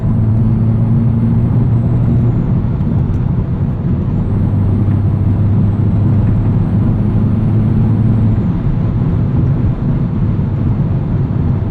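Inside the cabin of a moving 2020 Hyundai Veloster N, a loud, constant engine and road drone with sustained low tones fills the whole stretch.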